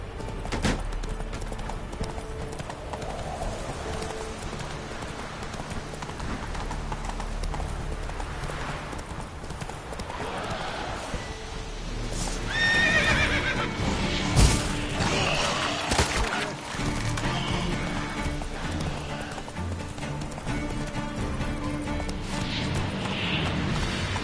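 Hooves of a horse clip-clop at a steady trot through The Witcher 3, close and prominent for the whole stretch, with occasional heavier thuds and crashes partway through.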